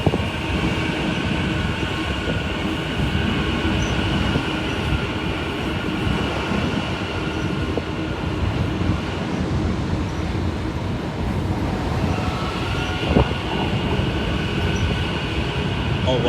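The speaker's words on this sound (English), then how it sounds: "here comes that train" A train rumbles steadily nearby, its wheels rattling on the rails and a faint squeal rising as it pulls in.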